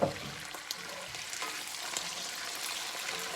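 Vinegar splashes into a hot pan of wilted dandelion greens, giving a steady, fairly quiet frying sizzle with a brief sharp burst at the start and light stirring clatter throughout.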